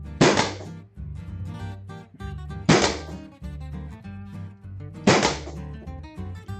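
Planet Eclipse paintball marker with an SL regulator firing three loud, sharp shots at even intervals of about two and a half seconds, each with a short ringing tail, close by.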